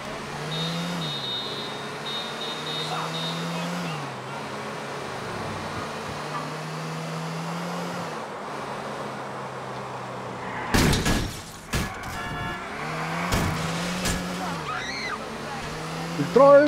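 Car engine droning and revving while driving in Grand Theft Auto IV, with pitch rising and falling through gear shifts, sharp door slams or impacts in the middle, and a voice talking over it.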